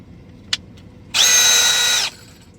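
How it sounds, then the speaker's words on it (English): A Milwaukee M18 hammer drill runs in one loud, steady burst of just under a second after a small click, alone with no talk. "So hammer drill, we'll see how good this one is"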